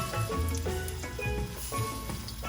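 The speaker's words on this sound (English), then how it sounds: "now to your hot oil, you're adding your onion" Chopped onion dropped into oil heated on a high flame for Trinidad cooking, giving a steady broadband sizzle and crackle close up. Low tonal sounds run underneath throughout.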